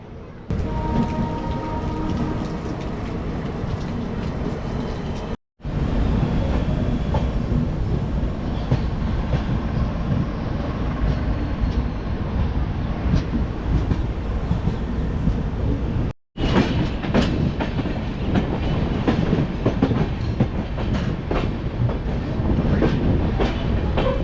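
Delhi SF Express passenger train running on rails between Pathankot and Amritsar, with a steady loud rumble and rhythmic clickety-clack of wheels over rail joints throughout, broken by two brief dropouts.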